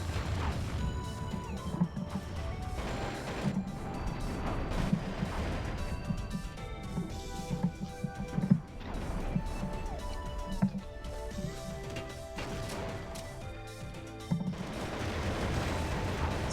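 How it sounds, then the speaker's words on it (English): Dense, continuous game combat rumbles through a mountain level in a shooter playthrough, with blasts, crashes and rapid gunfire layered over a low, booming bed, loud and unbroken throughout. "Survived that explosion."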